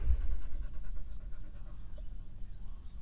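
A cattle dog pants close by in a steady rapid rhythm of quick breaths, moderately loud and continuous with no talking.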